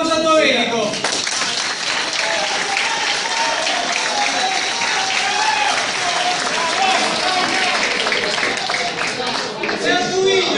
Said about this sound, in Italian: Un applauso a Domenico!